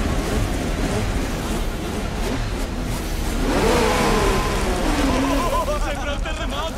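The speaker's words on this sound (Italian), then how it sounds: "accendete i vostri motori!" Racing car engines starting and revving in an animated film, a loud dense engine roar with rising revs, mixed with crowd noise and speech.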